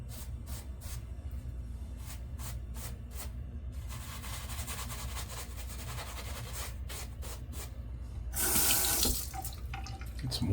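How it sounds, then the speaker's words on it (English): Water running from a tap into a bathroom sink during a wet shave, a steady hiss with intermittent rubbing and tapping sounds over it, briefly louder near the end. "Some water going here."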